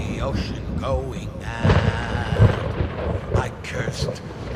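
A thunderstorm at sea in the video game A Fisherman's Tale brings loud rumbling thunder and a rushing storm bed, heard under a narrating voice throughout.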